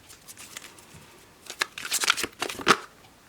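Enchanted Map Oracle cards shuffled by hand, close and clear, a soft papery rustle that builds into quicker flicking and slapping bursts, with no talking.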